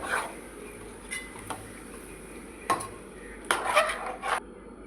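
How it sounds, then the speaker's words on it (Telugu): A spoon scrapes and knocks against a pan while chicken is stirred into gravy. The clinks and scrapes come in scattered bursts, a quick cluster near the end, over quiet kitchen background. No voices. "ఇప్పుడు మనం ముందుగా కడిగి పెట్టుకున్న చికెన్ అనేది వేసుకొని కలుపుకోవాలి"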